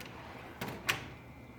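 A tool box drawer slides open with a short rattling scrape, followed by a sharper metallic clack, in an otherwise quiet room.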